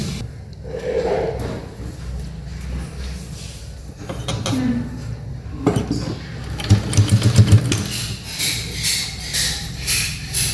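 A sewing machine runs in bursts while stitching double-folded cloth for a baby cap, its whirring motor and rapid needle chatter close and steady, with handling noises between runs.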